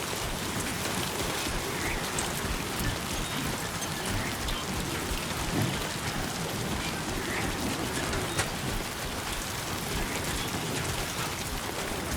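Steady rain pours down in the video game Death Stranding 2, a dense, loud, continuous hiss of drops on surfaces with no clear thunder.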